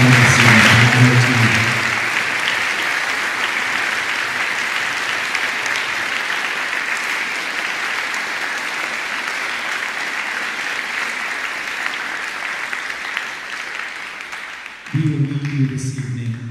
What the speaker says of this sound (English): can we give a round of applause to Mrs. Sarah Wines and Mr. Otter